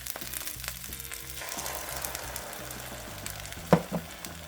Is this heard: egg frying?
yes